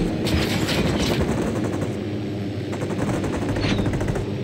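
Sustained automatic machine gun fire in the tactical shooter game Ghost Recon Wildlands, a dense, loud rattle of rapid shots rolling on without pause for the whole stretch.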